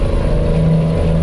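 A heavy truck engine in American Truck Simulator or Euro Truck Simulator 2 drones loudly and steadily with a low rumbling tone, its pitch holding then shifting slightly as if revs change around a gear shift, with no talk.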